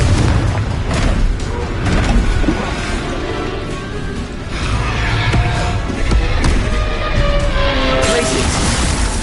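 Confringo spell blasts going off in the Hogwarts Legacy video game, a run of booming impacts and thuds layered over dense game music and combat noise with voices mixed in.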